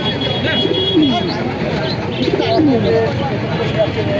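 King pigeons at a bird market, with repeated soft cooing calls and scattered chirps from other birds against a busy background murmur.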